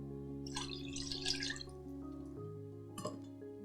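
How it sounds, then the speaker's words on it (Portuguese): Water splashing and trickling into gluten-free cornmeal cake batter in a bowl, a short soft pour followed by a small splash, close and quiet over steady kitchen hum. "Vou colocar a água."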